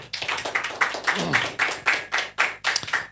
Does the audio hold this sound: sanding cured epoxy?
no